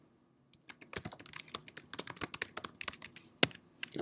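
Quick irregular keystrokes on a computer keyboard as a location name is typed, crisp close clicks in uneven bursts with one louder key press near the end, no voices.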